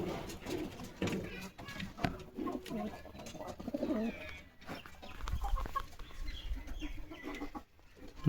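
Farm chickens cluck and murmur close by on a hillside homestead, a steady overlapping chorus of soft bird calls with scattered louder clucks throughout.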